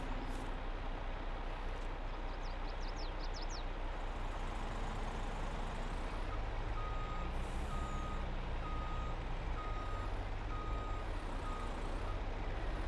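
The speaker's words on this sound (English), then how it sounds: "I'm gonna have to move the truck." A truck in Farming Simulator 22 reverses with repeated steady beeping over a continuous low engine rumble, the beeps fairly faint against the idling drone.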